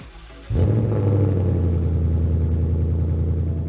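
A Ford Mustang GT (2015-2023 generation) with a Borla X-pipe resonator delete and an aftermarket axle-back exhaust fires up after a brief pause, then settles into a loud, close, deep, steady rumbling idle.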